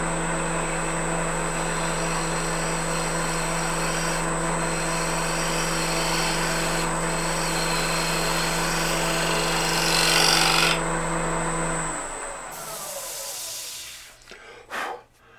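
A fluteless woodturning gouge cuts wood on a spinning lathe, a steady motor hum with a hissing cut that swells briefly, then the machine winds down and stops, leaving a few knocks at the end.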